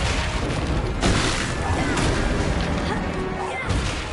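In the Hogwarts Legacy video game, a Confringo fire spell detonates in loud, rolling explosive booms and crashing blasts that last throughout, with voices speaking over the din.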